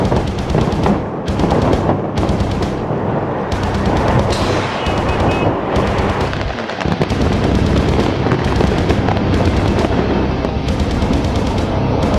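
Demolition blasting with delayed detonators fires a loud, continuous rolling series of sharp blasts and cracks in rapid succession, filling the whole stretch without pause.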